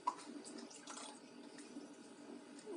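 Boiling water, about 100 ml, poured into an Easter egg dye mixture, giving a soft, steady trickle and splash that runs close by for under three seconds with no talk.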